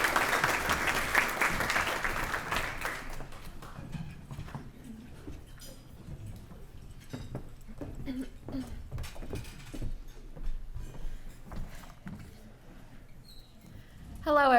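Audience applause welcoming a speaker to the podium at a fundraising event for a youth STEM academy, starting as a dense burst of clapping and thinning into scattered claps and shuffling, with louder clapping returning at the end.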